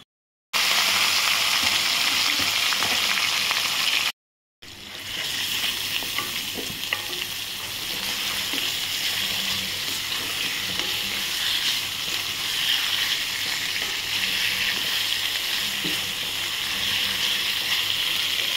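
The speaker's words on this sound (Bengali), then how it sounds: "মাছগুলো একটু হালকা ভাজা হবে" Fish fries in hot oil seasoned with cumin and dried chillies, giving a loud, close, continuous sizzle with crackling spatters, broken by two brief silent gaps near the start.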